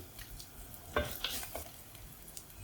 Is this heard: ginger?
yes